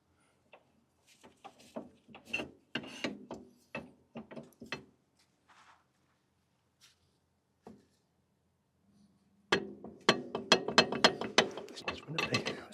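Car wheel brake discs rub and grind against the carrier in a series of irregular ratcheting scrapes and clicks, with pauses and a denser burst toward the end.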